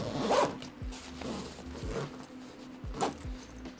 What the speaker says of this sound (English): See how easy this one is to zip up.